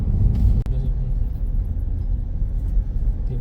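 A Hyundai Grand i10 Nios cruises along an expressway at night on a long drive from Kolkata toward Puri, with a loud, continuous low road-and-engine rumble inside the cabin and one brief dip partway through.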